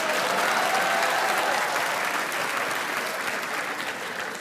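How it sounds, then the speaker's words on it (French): Studio audience at a French comedy sketch show bursts into sustained applause, steady clapping filling the whole stretch and easing slightly toward the end. "applaudissez ceux qui pensent que c'est David qui s'est trompé"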